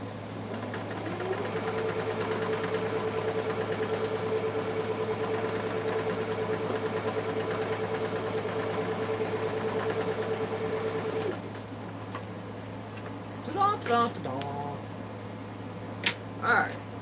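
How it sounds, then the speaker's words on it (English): A sewing machine stitches down the side of a fabric hexagon piece with a steady, even mechanical whir for about ten seconds, then stops, followed by brief soft handling sounds. "I'm gonna go ahead and sew down the other side."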